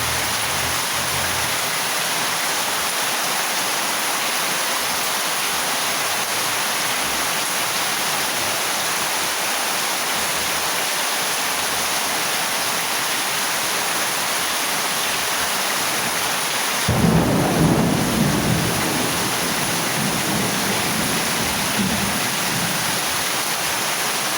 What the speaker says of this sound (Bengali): এখানে তো বৃষ্টি দেখেন